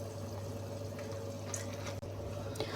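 Water poured into a pan of kofta curry masala with yogurt, a steady low trickle and wash close by, heard alone without talk.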